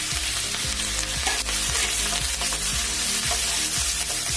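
Chopped green chillies frying in hot oil with asafoetida for Rajasthani mirch tipore, giving a dense, close sizzle with rhythmic stirring knocks, no voices.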